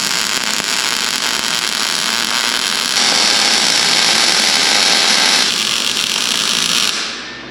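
Steel 2x2 tubing being welded onto a 1930 truck bed, a loud, steady, close buzzing hiss that holds for several seconds and then cuts off.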